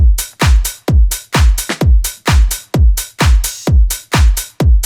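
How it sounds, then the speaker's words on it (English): A loud, looping house drum beat with punchy kicks and a long, hissing open hi-hat that rings out in a disco-style pattern, steady and rhythmic with no voices. "I've got this other open hat, which is longer"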